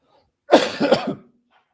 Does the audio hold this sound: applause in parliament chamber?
no